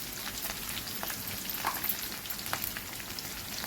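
Turmeric dropped into a hot oil tempering for mango rice, a soft continuous sizzle and crackle of frying, steady and fairly quiet, with no voices.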